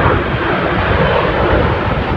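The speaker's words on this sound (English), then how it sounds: "It's another plane." An airplane flies overhead outside a Goodwill outlet store, giving a loud, steady, broad engine roar that fills the whole moment with no talk.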